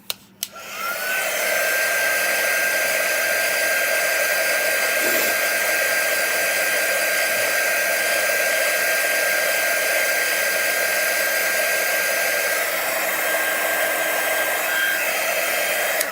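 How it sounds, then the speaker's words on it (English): A hair dryer blows steadily at close range for about fifteen seconds to dry a crafted Peanuts shelf-sitter figure, a constant loud whir with a faint tone running through it, with no talking. "I'm going to dry this so that I don't mess it up."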